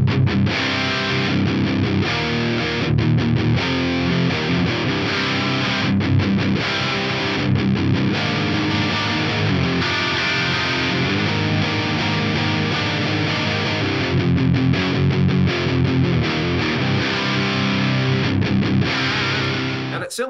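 Heavily distorted electric guitar through a high-gain Mark Series amplifier plays a continuous, dense riff at high volume, chugging and sustained throughout with brief choppy gaps.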